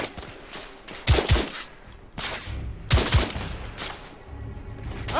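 Gunfire from the video game The Order: 1886, in two loud bursts of sharp, close shots roughly two seconds apart, with quieter crackling shots between them and no talk.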